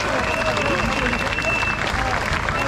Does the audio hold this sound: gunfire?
no